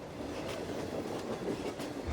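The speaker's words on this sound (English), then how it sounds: "The train that just came in today was our 222." A Wheeling & Lake Erie Railroad freight train rolls in, a steady mechanical rumble with faint rhythmic clatter from wheels on rail, close and continuous without speech.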